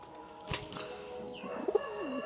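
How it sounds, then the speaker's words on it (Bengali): A female pigeon coos in short, soft calls that grow more active toward the end, heard close by over a quiet background with a brief rustle near the start. "আসলে এটা একটা মাদি কবুতর, তো ওই নড়ের মতো ডাক দিচ্ছে"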